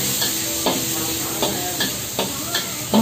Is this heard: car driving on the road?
no